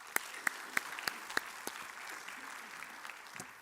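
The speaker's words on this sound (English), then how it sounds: "I would like to invite all of you here to please give them a big round of applause." Scattered applause at a dengue awareness event on stage, a few sharp distinct claps near the start that thin into faint, sparse clapping over a quiet room.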